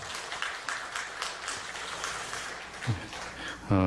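Congregation clapping in church during a Sunday worship service, a steady patter of hands lasting a few seconds, with a low voice surfacing near the end.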